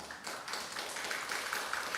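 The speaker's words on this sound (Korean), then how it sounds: "박수 부탁드립니다." An audience at a panel discussion on robotics at COEX in Seoul applauds as a speaker is introduced, with steady, moderately faint clapping from a crowd lasting about two seconds.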